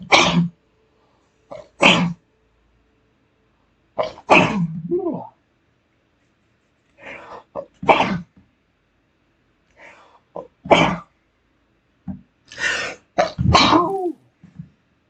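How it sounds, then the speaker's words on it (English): Someone sneezes over and over in a quick series of loud, explosive bursts, each one sharp and followed by a short gap, with a few breathy, throaty sounds between the sneezes. "Once I get started with the sneezes,"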